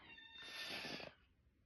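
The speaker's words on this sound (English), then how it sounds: "that's my cat you can hear crying in the background" A cat meows once in the background, a drawn-out, whiny cry lasting about a second that fades quickly, fairly faint and heard alone.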